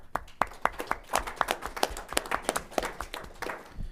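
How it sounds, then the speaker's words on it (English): A small audience at a Utah watersheds council meeting gives a brief round of applause, sparse, distinct hand claps close to the microphone at an uneven rhythm, without any talk. "let's give them all a round of applause"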